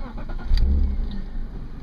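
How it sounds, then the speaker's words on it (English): A 1998 BMW M3 engine cranks and fires up close by. There is a short whirring crank, then a rising burst as it catches, settling into a steady idle rumble. "I'll go ahead and crank the engine now."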